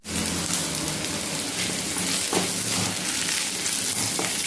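Okra sautés in a pan for a Manavai-style okra pachadi, giving a steady, dense sizzle and crackle like light rain with no break throughout.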